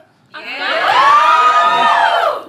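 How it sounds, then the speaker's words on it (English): Audience letting out a sudden loud cheer, many voices rising together after a brief quiet start and holding a steady whooping roar for about two seconds before tapering. "give me a cheer"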